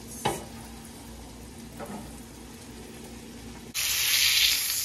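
A steak frying in a pan, lightly crisping, gives a faint steady sizzle with a couple of soft utensil knocks. Near the end a louder rush of hissing cuts in and holds.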